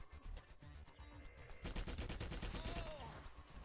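Rapid gunfire from the video game Kava RF Prequel, a fast run of repeated shots building up midway and continuing to the end over a dense game soundtrack, faint and slightly muffled.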